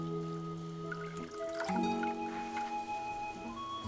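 A filter circulates water in a 10-gallon planted aquarium without filter media, giving a steady trickling flow with a few soft drips over a low hum.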